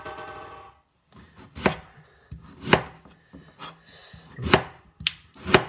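A kitchen knife chops swede into thin slices for a Cornish pasty, giving about five distinct close thunks on a cutting board with quiet gaps between them.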